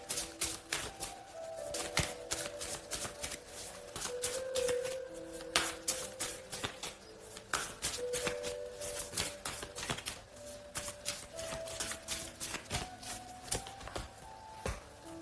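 Tarot cards shuffled and drawn by hand, quiet close riffling and sharp card snaps in uneven bursts, with faint tones in the background and no one speaking.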